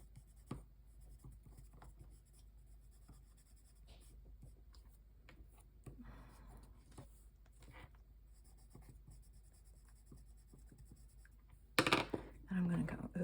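Close, soft scratching of watercolor pencil colouring in brown over paper, repeated short strokes, with louder handling noise near the end.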